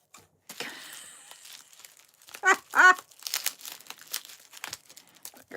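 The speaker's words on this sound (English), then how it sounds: "Bubble wrap." Bubble wrap crinkles and rustles as it is pulled out of a shipping box, with short bursts of plastic crackling and a louder crunch partway through, close to the microphone.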